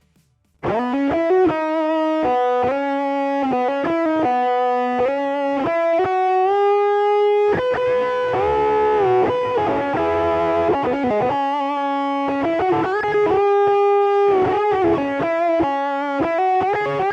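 Electric guitar played through a Zoom G6 multi-effects patch with cabinet, graphic EQ and reverb: a loud, sustained distorted melodic line of held notes and quick runs, heard alone without talk.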